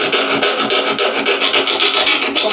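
Rapid back-and-forth rasping of 40 grit sandpaper worked by hand over the fin area of a surfboard, loud and close, in an even rhythm of strokes.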